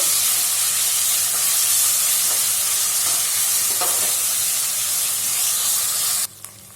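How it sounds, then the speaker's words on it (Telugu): Ginger-garlic paste sizzles and fries steadily in a hot pan while white biryani is being prepared, a loud continuous hiss with faint stirring scrapes, cutting off sharply near the end. "అల్లం వెల్లుల్లి రెండు టేబుల్ స్పూన్లు వేసుకుందామండి ఇలా వేసిన తర్వాత పచ్చి వాసన పోయేంత వరకు వేసుకుందాము"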